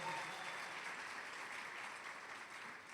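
A church congregation applauds together in a dense, continuous wash of many hands clapping, heard fairly faint and from a distance, holding steady and easing slightly toward the end.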